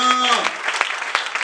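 A worship congregation breaks into applause, a dense, continuous clatter of many hands, with a sustained sung or spoken tone fading out at the start.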